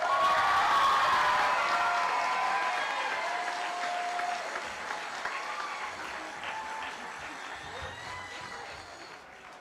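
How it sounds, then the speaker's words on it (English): Applause from a high school graduation audience for a graduate, a dense crowd clapping at full strength at first and then thinning and fading slowly, with scattered cheers mixed in. "we'll give an extra applause for Kendall Dusenberry."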